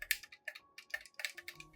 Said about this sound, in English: Use a spoon to stir the solution evenly into the water.